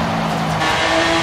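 Dodge Viper racing through a corner in Forza Horizon, a loud sustained engine drone with a steady tonal whine and slight tire scrub, close and continuous with no voices.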